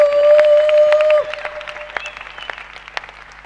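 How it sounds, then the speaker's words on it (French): Applause from a church audience at a Christmas celebration in a Pentecostal church, steady at first and then thinning into scattered claps, with a sustained tone at the start. "Est-ce que nous pouvons l'applaudir?"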